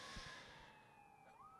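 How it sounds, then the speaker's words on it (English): An ambulance siren outside, a sustained wailing tone that sweeps slowly downward and then rises again, fairly faint and distant against low background rumble. "Oh, God, how's this ambulance going to sound?"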